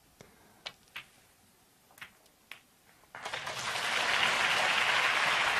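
A snooker crowd at the 2017 China Open breaks into applause after a shot. A few sharp clicks of balls come first in near silence, then clapping swells quickly into sustained, full applause.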